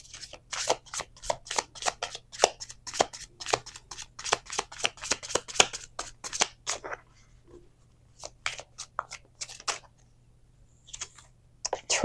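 Crime Time Tarot cards being shuffled by hand, a quick run of crisp riffling snaps and flicks that pauses briefly and then resumes more sparsely, close and clear, with no talking.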